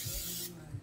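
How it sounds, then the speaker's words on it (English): Nonstick cooking spray hisses into a cast iron pan in one short, steady burst that cuts off abruptly, heard up close in a quiet kitchen. "Nonstick spray inside my cast iron."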